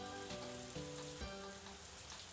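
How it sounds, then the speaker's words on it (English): Rain falls in the Harvest Moon: A Wonderful Life video game, a soft, steady hiss of rainfall that sits quietly under gentle looping game music. "I really like the rain in this game"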